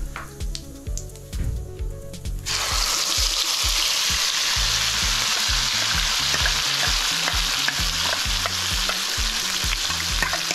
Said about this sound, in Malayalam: അതിലേക്ക് തക്കാളിക്കായും സവാളയും എല്ലാം കൂടെ അരച്ച് ഇവർ ഇതിലേക്ക് ആഡ് ചെയ്യുകയാണ്